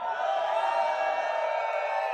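Crowd at a St Patrick's Day chessboxing event cheering and whooping in a steady, loud wash of voices that holds for a couple of seconds.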